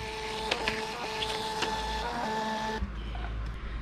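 A handheld Bluetooth MTP3 printer prints a sales receipt, a close, steady electronic whirring with faint clicks that lasts nearly three seconds before cutting off, leaving a low background hum.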